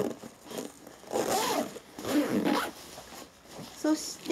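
A zipper on a black Hazard 4 Messenger of Doom go-bag is pulled open in a few rasping strokes. Someone speaks over the zipping.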